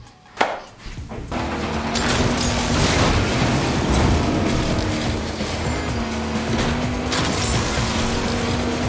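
Car engine in the open-world game Agents of Mayhem, a steady loud drone with shifting pitch that runs almost the whole time after a brief quiet opening, with no talk over it.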